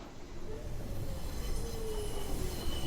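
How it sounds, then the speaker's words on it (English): Train from the video game 428: Shibuya Scramble pulling into a station platform, wheels squealing in long thin whines over a steady rumbling roll, continuous and fairly close, with no voices. "The train glided up to the platform."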